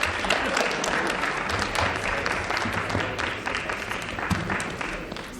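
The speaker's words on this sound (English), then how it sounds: "One more round of applause." A crowd at a high school Shark Tank-style student pitch event gives a round of applause, a steady, dense wash of clapping sustained throughout with a faint low hum beneath.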